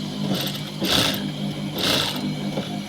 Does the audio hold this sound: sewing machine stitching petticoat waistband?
yes